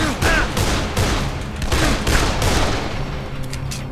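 Rapid bursts of gunfire in the zombie game Dead Island, loud and close, with repeated shots overlapping into a dense barrage across the whole stretch.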